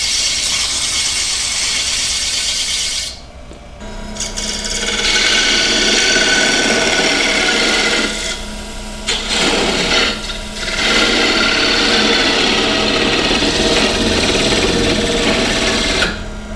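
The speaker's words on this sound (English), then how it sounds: "I'm going to sand that." Sandpaper runs against a spinning poplar goblet on a wood lathe, a steady loud rasping hiss under the motor hum that drops out briefly twice as the paper lifts away. No talking.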